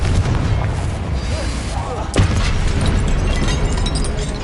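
A Confringo blasting spell bursts in Hogwarts Legacy, a sharp boom landing mid-clip over a dense, constant wash of battle noise and rumble.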